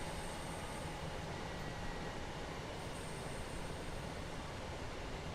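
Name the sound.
train braking to a stop in Train Sim World 5 video game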